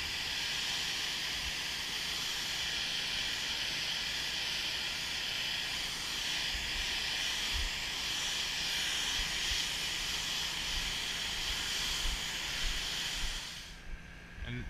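A low-pressure power washer sprays a steady hissing stream while rinsing plants during house washing, a continuous broadband spray held at even strength before cutting off near the end.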